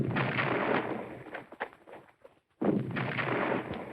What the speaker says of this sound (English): Was that gunfire?